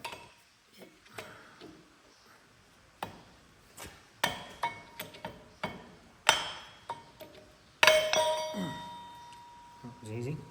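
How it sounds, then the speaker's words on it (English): Repeated metallic hammering as a shaft knocks the outer bearing race out of a tracked tractor's idler wheel in a workshop, with irregular sharp ringing strikes, some louder than others, and a few quiet words spoken between blows. "use that shaft to knock the outer race out, outer bearing"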